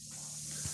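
An airbrush in a garage sprays out the last of the paint in its cup, a short steady close hiss of air lasting under a second, faint and even with a low background hum.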